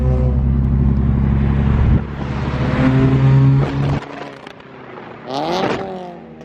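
A lowered Lexus IS300 on coilovers driving through a downtown area, its engine droning steadily then revving up and dropping off, with a brief higher whine near the end, loud and close.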